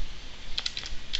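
Several quick, light keystrokes on a computer keyboard tap close by in a short, uneven burst over a quiet background.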